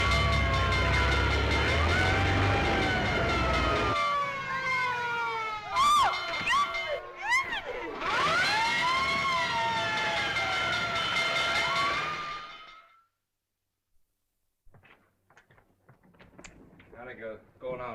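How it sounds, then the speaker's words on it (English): Wailing fire engine siren from a 1937 film, rising and falling in long sweeps over engine rumble and a busy street soundtrack, ending abruptly and followed by faint scattered sounds. "looks as if I finally get my ride on a fire engine"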